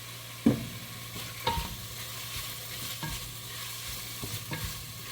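Garlic frying in coconut oil, a soft steady sizzle broken by several distinct clacks and scrapes of a utensil stirring in the pan.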